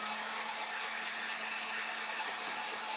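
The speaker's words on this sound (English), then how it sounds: "Now I'm going to go ahead and dry this with my heat gun" A heat gun blows steadily while drying a stencilled book page, giving a constant, close, even whoosh of air with a fixed motor hum underneath, unbroken for the whole stretch and with no speech.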